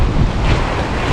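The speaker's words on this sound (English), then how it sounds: "The wind is ripping" Strong wind buffets the microphone on an ocean fishing pier, with surf roaring underneath in a loud, continuous rush.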